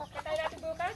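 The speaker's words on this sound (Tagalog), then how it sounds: "Ayan na naman yung mga manok" Native chickens on a rural farm give a few quick, soft clucks in close succession, brief and fairly near.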